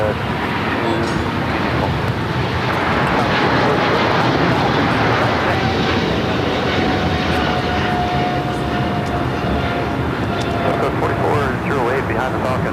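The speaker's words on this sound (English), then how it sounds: "Let's have the Philippine 777 now rolling." Philippine Airlines Boeing 777 heavy jet rolling for takeoff at LAX, a loud, sustained engine roar close by with a faint tonal whine, while a voice talks over it.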